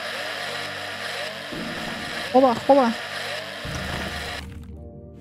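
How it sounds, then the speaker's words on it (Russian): In the space survival game Breathedge, a drill whirs with a steady mechanical hum and two brief higher revving bursts partway through, then cuts off abruptly, while a voice speaks over it. "О, дрель."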